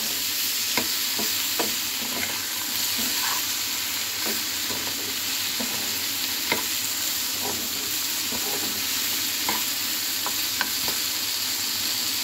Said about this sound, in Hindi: कितना पकाने से लहसुन होते ना हमारे ये हल्के से भून जाए,